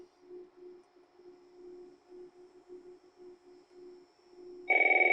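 Several AT&T Merlin office telephones begin ringing together, a sudden loud electronic warble cutting in over a faint pulsing tone near the end.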